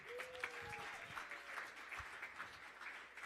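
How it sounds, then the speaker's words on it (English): Applause from a conference audience in a large hall, a steady, fairly faint wash of clapping with a few voices calling out over it. "Another big round of applause, please."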